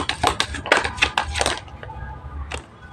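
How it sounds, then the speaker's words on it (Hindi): Tarot cards dropping and slapping onto a surface during a card reading; a quick cluster of crisp, close taps and flutters, then one last soft tap after a brief pause. "कार्ड्स गिर क्यों रहे हैं आपके लिए"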